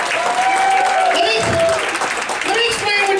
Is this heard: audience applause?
yes